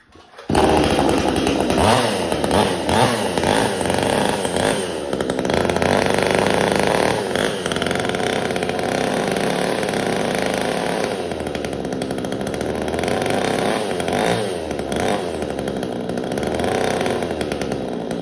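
A VEVOR 62cc chainsaw engine starts and runs loud and close, a raspy two-stroke drone that holds steady with slight rises and dips in revs for the whole stretch.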